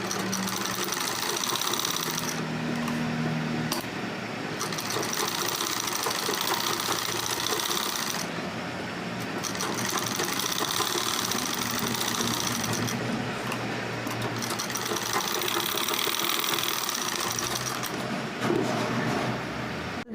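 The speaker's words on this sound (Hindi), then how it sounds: "अब मैं साइड में से कच्ची सिलाई कर दूंगी।" A sewing machine stitching a fabric sleeve, a continuous mechanical whir that pauses briefly several times, close and clear, with no talking.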